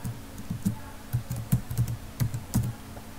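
Keys clack on a computer keyboard while someone fills in an online application form, with irregular bursts of close, crisp keystrokes and brief pauses between them.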